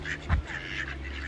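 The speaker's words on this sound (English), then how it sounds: "Say hello to some of the ducks, the wildlife." Ducks at a camping and touring resort in Hunstanton give a run of soft, nasal quacks, with one louder low call standing out, heard close and without talk.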